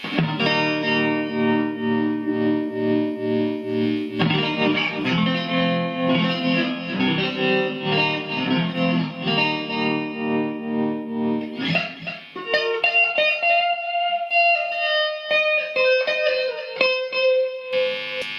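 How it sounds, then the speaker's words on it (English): Electric guitar chords through a Yamaha DG60FX-112 amp pulse with a wavering tremolo and trailing delay echoes, then shift to a sustained single-note melody, loud and alone. "Now let's try tremolo. Add some delay to that to fill it out a bit."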